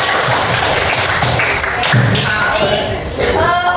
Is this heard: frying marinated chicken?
no